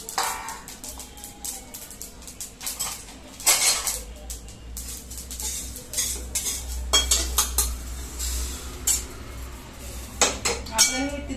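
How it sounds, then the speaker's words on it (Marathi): Dry-roasted sesame seeds for til modak are scraped from the pan into a wide parat, giving close, intermittent metallic clinks and scrapes of a utensil against cookware over a low background hum. "आपण हे परातीत काढून घेऊया म्हणजे लवकर थंड होतील"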